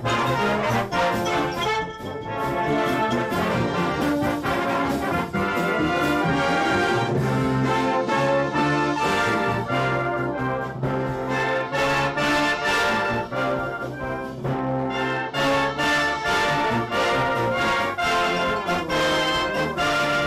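A brass band, formed in 1855, plays at its Monday night rehearsal in Yorkshire, with full, loud ensemble music sustained throughout and no talking.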